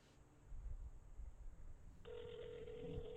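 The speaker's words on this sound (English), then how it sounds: "Hopefully you can hear that ringing" A telephone rings during a call, a steady electronic ring tone that starts partway through and holds on continuously, fairly clear above a low background rumble with no talking.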